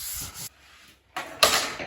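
Hand sanding a recycled hardwood benchtop down to 200 grit: two close, soft scratchy rubbing bursts with a brief quiet gap between them, the second stroke louder and brighter.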